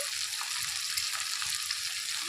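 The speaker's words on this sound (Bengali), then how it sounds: "এবারে টমেটোটাও কিন্তু একটু ভেজে নিতে হবে" Steady, close sizzling of tomato frying in a hot pan, a continuous crackling hiss with no voices.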